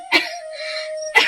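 Two short, harsh coughs from a cartoon character, one near the start and one near the end, separated by a steady synthetic tone.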